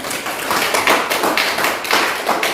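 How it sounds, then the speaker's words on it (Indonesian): Classroom applause from pupils: loud, close, rhythmic clapping in a patterned beat with repeated grouped claps and little talk. "Tepuk tangan semuanya"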